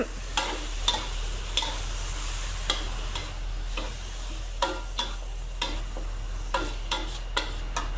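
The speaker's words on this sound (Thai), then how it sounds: "ผัดไฟแรงเลยนะคะ ยังไม่ต้องเติมน้ำ" Mixed vegetables and pork with sauce are stir-fried over high heat, a soft continuous sizzle punctuated by regular spatula scrapes and knocks against the pan, roughly one or two per second, with no talking.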